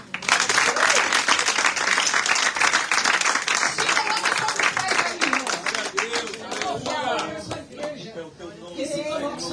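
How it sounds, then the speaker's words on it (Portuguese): A church congregation breaks into applause during a service, loud and dense at first and then thinning into scattered claps, cheers and a few voices toward the end. "Aplaude ele agora."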